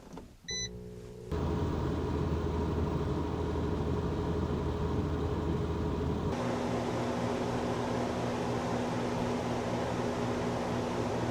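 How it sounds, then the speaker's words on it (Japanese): Inside a kei car, the indoor unit of a new portable car cooler (Lacool 2025) runs after a brief click, giving a steady whirring fan hum heard from about a metre away. Partway through, the tone shifts as the fan setting changes. "だいたい室内機から1メーターぐらい離れた場所で騒音を測定します。"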